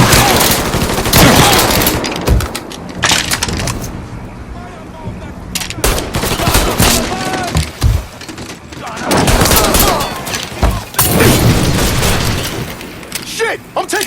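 Gunfire in the video game Mafia 3, loud bursts of automatic weapon fire and heavy booms coming in dense volleys with short lulls, while a voice shouts over the shooting.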